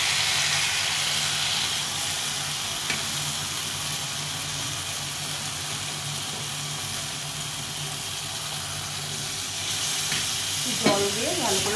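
Poppy seed paste sizzles steadily in a pan of fried ginger-cumin spice masala while being stirred, a continuous moderate frying hiss with faint scraping, for a ridged gourd and poppy seed dish.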